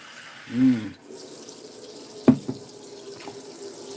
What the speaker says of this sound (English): I fill my glass with some water.